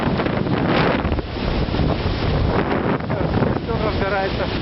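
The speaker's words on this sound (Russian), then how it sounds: "Вот это такой ветер." Strong wind roars steadily across a campsite in March, buffeting the microphone with loud, continuous gusts; a campfire burns nearby and a voice is faintly present beneath the rush.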